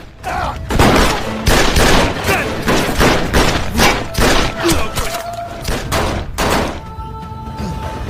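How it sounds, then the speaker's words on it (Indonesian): Dense gunfire crackles through a gangster film shootout, bursts and thudding impacts piling up loud and close with overlapping hits and no clear pauses. "Di sini, di tengah baku tembak, Asyong dan Ching Feng mengejar Michael"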